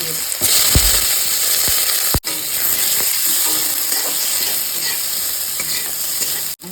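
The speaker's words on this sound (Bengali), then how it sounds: "গরম বাটা মশলাটা দিয়ে দেব মশলাটা কষানো হয়ে গেছে" Hot ground spice paste sautés in oil in a pan with a loud, continuous sizzle and hiss. A few knocks sound near the start, and stirring scrapes run under the frying.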